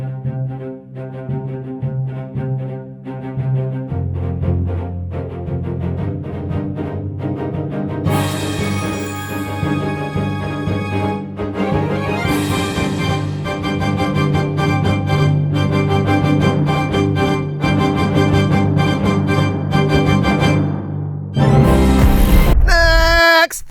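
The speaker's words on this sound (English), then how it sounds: "So now just the strings and the orchestral percussions sound like this." Orchestral strings with orchestral percussion play a full sustained passage that swells in density and loudness, with bright accents near the end and no voices.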